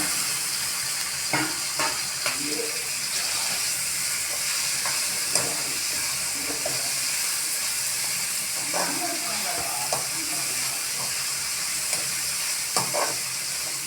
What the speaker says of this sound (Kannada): ಟೊಮೆಟೊ ಹೋಳನ್ನ ಹಾಕೋಬೇಕಂತೆ ಹಾಕ್ಕೊಳ್ರಿ ಕೈ ಆಡಿಸ್ಬಿಡ್ತಿಲ್ಲ ಇದನ್ನು